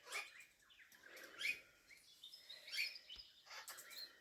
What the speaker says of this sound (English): Beautiful king parrots.